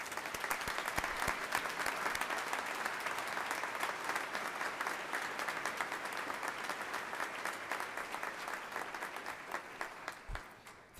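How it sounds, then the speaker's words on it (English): Sustained, dense applause from a standing audience at a fall graduation ceremony, steady and fairly even for the whole stretch, with no talking over it. "let us give you a round of applause"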